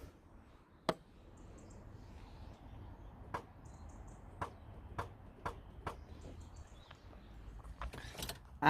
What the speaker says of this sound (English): And the solenoid's clicking